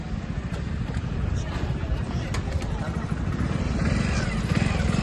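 A motorcycle rumbles steadily close by while riding, its engine drone continuous and fairly loud under background noise.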